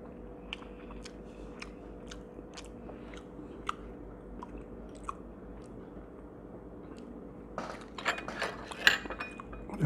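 Close, quiet chewing of fried canned sardines, soft rhythmic crunches and wet bites repeating steadily, then a louder cluster of crunchy mouth sounds near the end.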